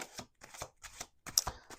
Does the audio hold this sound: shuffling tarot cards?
yes